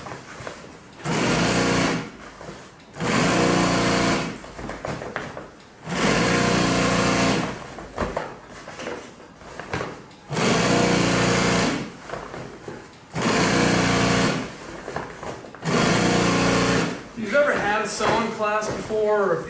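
A sewing machine top stitching a seam in boat canvas runs in about seven steady, loud bursts with short pauses between them. A brief voice may be heard at the very end.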